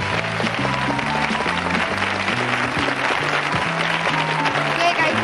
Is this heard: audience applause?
yes